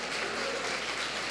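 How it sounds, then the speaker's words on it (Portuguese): During a Portuguese-language church service, the congregation applauds in a brief, steady, somewhat distant wash of clapping. "Glorifica a Deus, aplaude ao Senhor aí."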